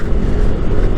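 A Yamaha NMAX scooter's engine drones loud and close while downshifting under engine braking, a continuous rough motor roar with no speech.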